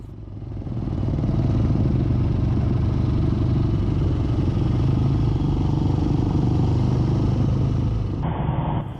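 A classic Ariel motorcycle rides past at a motorcycle museum's try-a-classic day, its engine a loud, steady rumbling drone that holds for several seconds before cutting off abruptly.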